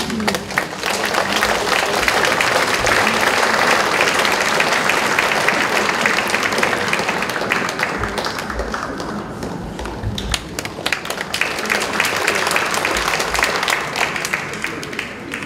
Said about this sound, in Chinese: 来，我们以热烈的掌声欢迎